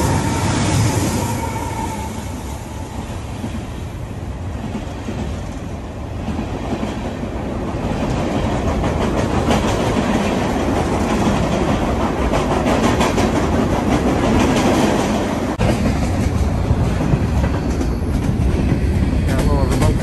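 CSX freight train Y102, bound for Oak Point Yard in the Bronx, rolls past at close range for the whole stretch, a steady loud rumble with clattering wheels and rattling cars.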